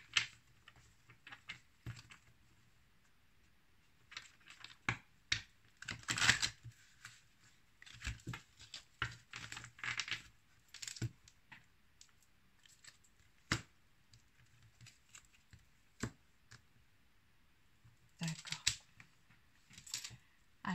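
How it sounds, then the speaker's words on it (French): Tarot cards are shuffled by hand in short, irregular bursts of crisp riffling and snapping, quiet and close with pauses between. "On peut mélanger les cartes."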